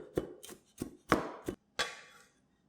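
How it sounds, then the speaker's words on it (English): A knife roughly chops two garlic cloves on a cutting board: six sharp, close knocks with uneven gaps, each one crisp and loud, with no voices. "Roughly chop up 2 cloves of garlic"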